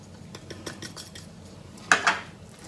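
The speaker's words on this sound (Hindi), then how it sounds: "इसको अच्छी तरह मिक्स कर लें।" Beef being mixed with cornflour, black pepper and salt in a bowl, with soft rhythmic scraping taps of utensils followed by two louder clinks of metal against the dish, close up and without speech.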